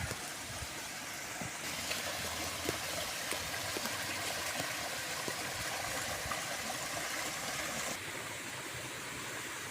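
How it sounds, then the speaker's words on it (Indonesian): River water diverted through a channel to a grafted durian tree under five years old, flowing as a steady, fairly strong rushing wash that continues without pause. "Jadi airnya lumayan besar yang saya alirkan dari sungai ke sini"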